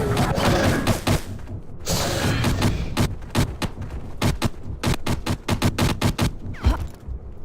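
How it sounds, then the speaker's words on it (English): Gunfire in the game Jurassic Park: Trespasser, a loud rapid series of sharp booming shots in quick irregular bursts over a rumbling background, close and forceful with no speech. "I think I might have shot myself."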